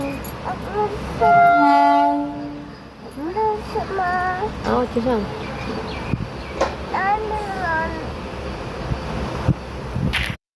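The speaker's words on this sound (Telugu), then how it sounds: "ఈ పక్కన ట్రైన్ హార్న్స్ ఉంటాయి కదా" Train horns sounding near a railway station as trains pass, with a long loud blast early on and shorter tooting horn calls after it, over rumbling rail noise and nearby voices.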